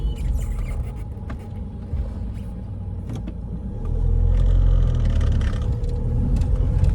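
A Mahindra XUV500 SUV climbs a hill during a hill descent and hill hold control test, its engine a steady low rumble close by that swells louder partway through, with no talk.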